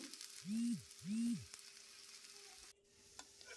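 A sweet corn dosa cooking in a lightly oiled pan after being turned, giving a steady low sizzle broken by two loud scraping or flipping sounds close by, then a quieter stretch.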